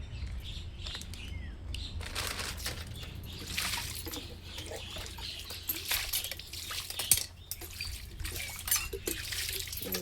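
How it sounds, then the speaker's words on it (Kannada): Water is poured over fish being washed in a pan, a soft continuous trickle and splash broken by scattered clinks and rustles of the fish and dish, fairly quiet and close. "ಸ್ವಲ್ಪ ನೀರು ಹಾಕಿ ಇದನ್ನು ಕ್ಲೀನ್ ಮಾಡ್ಕೋಬೇಕು"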